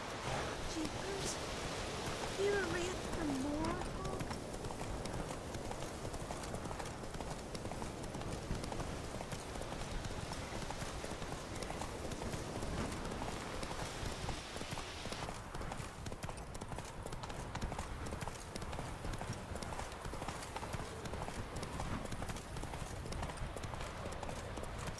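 Roach, a horse in The Witcher 3, gallops in steady clip-clop hoofbeats throughout, close and continuous over a soft wash of ambient game noise, with brief voices near the start.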